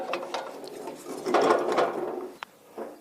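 A ratchet clicks in short bursts while bolts are tightened on a rotary mower being fitted to an MT-110 mini tractor, close and fairly loud in a quiet setting, with a sharp knock near the end.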